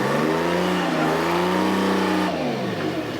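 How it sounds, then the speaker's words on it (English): An abandoned Michigan wheel loader's engine is held at high revs while its tires spin, giving a loud, steady, close diesel roar with a gently shifting pitch and no voices. "Bill said it would spin the tires."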